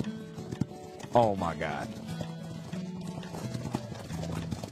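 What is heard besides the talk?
horse galloping hooves in Roblox Blade Ball video game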